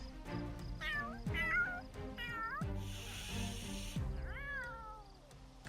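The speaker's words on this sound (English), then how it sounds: "Oh, I just heard somebody hiss." Cats in The Sims 3 game give several rising meows in a row, then a breathy hiss lasting about a second, then another drawn-out meow, all over a layered background of game tones.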